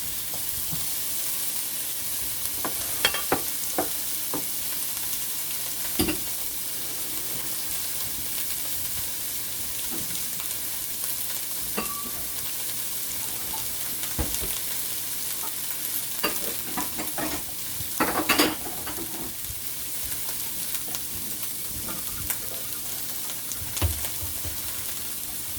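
Carrots and other vegetables for chop suey cooking in a pan over moderate heat. A continuous loud sizzle is broken by frequent scraping and stirring knocks, with no one talking.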